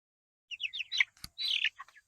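A small pet bird on a farm chirps in quick bursts of high tweets, close and clear against near silence, with one short knock partway through.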